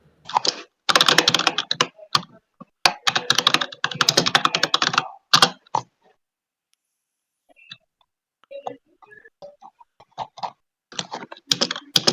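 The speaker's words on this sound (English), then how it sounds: "Nice keyboard sounds." Bursts of rapid clicky typing on a computer keyboard, close and crisp, with quiet pauses between flurries of keystrokes.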